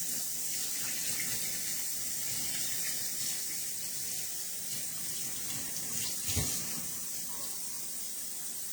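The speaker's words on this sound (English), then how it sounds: "I have to rinse my hands off." Hands rinsed under a running tap at a sink, a steady close hiss of flowing water that carries on unbroken with a brief splash partway through.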